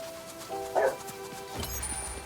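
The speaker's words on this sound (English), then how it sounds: "My dogs are having a good time playing out there. Probably hear them barking in the background." Dogs barking outside in the background, a few faint yips and barks at a distance under steady room noise.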